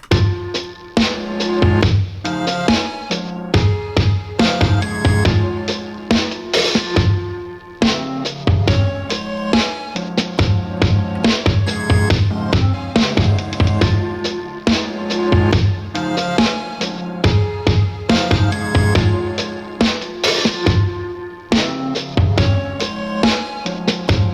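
A four-bar glitch music loop built in Bitwig with reversed sounds, playing dense choppy beats and stuttering slices continuously at a steady loud level, with no talk.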